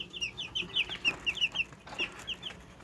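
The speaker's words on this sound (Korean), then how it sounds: "귀여운 백봉오골개와 청개병아리들을 지금 도, 보셨는데" Cheonggye and white silkie Ogolgye chicks, hatched in an incubator, cheep in quick high repeated peeps, about a dozen short chirps in an irregular run, fairly close but soft, with no talking over them.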